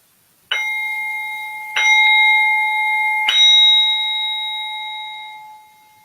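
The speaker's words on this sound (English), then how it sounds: "listen to the sound of the singing bowl" A metal singing bowl is struck three times, each strike ringing out with a bright, sustained shimmering tone that layers and slowly fades.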